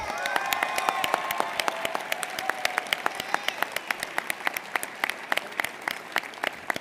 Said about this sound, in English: Let's give Ed one more round of applause.